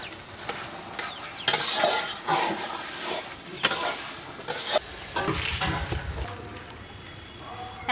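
Boiled chickpeas fry in oil and are stirred in uneven bursts of sizzling and scraping against the pot, with quieter gaps between the strokes.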